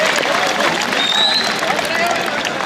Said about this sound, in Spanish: ¡Échale un aplauso!